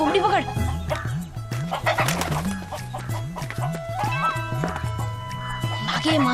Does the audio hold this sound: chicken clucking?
yes